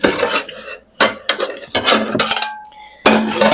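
A shallow pan pulled out of a kitchen cupboard, a few sharp metallic clanks and clinks in separate bursts with short quiet gaps between them, close and fairly loud.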